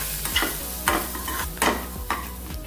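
A spoon stirs and mixes spices into potato sandwich filling in a pan, several scraping strokes in an uneven rhythm, close and moderately loud, with a faint sizzle underneath.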